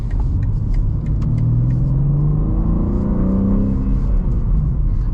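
BMW M3 G80 with a manual gearbox cruising along a road, its engine humming steadily and rising in a loud, continuous rumble of acceleration throughout, with no talk.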